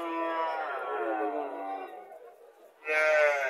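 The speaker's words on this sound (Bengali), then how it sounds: "এটা দেশি গাভী।" A local cow at a village cattle market moos twice, a long, loud, close-up low call followed after a brief pause by a shorter second moo.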